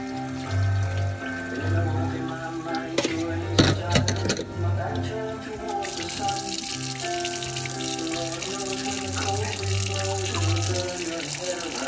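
Water runs steadily from a tap into a sink while tie-dyed fabric is rinsed, a loud, close, continuous splashing rush with tonal music faintly underneath.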